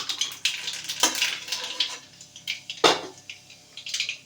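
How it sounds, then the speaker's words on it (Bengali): Nigella seeds crackle and sizzle as they hit hot oil in a wok, a close, bright spitting with a few sharper pops and a faint metallic scrape, no talking. "কড়াইতে তেল দিয়ে দিয়েছি, তেলটা গরম হয়ে গেছে, একটু কালো জিরে ফোড়ন দিয়ে দেবো।"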